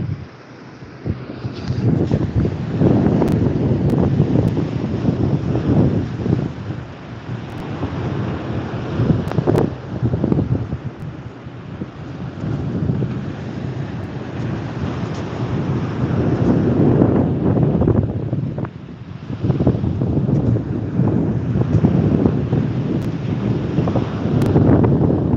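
Cold January wind gusts across a beach with strong rumbling wind noise on the microphone, continuous and loud, with a faint wash of surf underneath.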